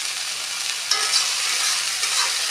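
Long beans sizzling and frying in a pan while being stirred, a loud steady hiss with a few soft scraping bumps.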